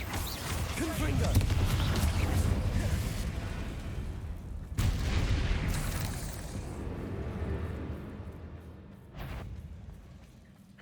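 Repeated blasting-curse explosions from Hogwarts Legacy, with spiders nearby, as loud booms and crashes recur over roughly eleven seconds amid continuous game noise, with a sharp burst midway and another near the end.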